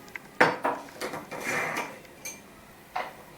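A metal teaspoon scooping sugar and coffee and knocking against a jar and cup, a few bright clinks and short scraping rattles, close and distinct with no talking.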